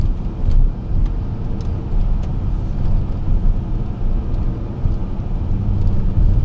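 A car drives through a residential district of Donetsk, with a steady, close rumble of engine and road noise running throughout and no talk.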